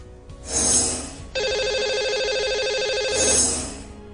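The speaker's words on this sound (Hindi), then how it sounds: "तो फोन मिलाते हैं, उनसे बात करते हैं" A telephone rings for a radio call-in show, with a warbling electronic ring tone sounding in bursts, one sustained ring in the middle between fading ones, clear and close with no talking.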